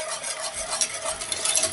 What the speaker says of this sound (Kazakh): Енді араластыра отыра қайнатқанға дейін жеткіземіз